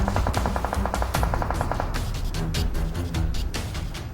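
Rapid machine-gun bursts traded between other players in PUBG Mobile, with fast regular shots in the first half giving way to scattered louder single cracks, fairly close and with no talk over it.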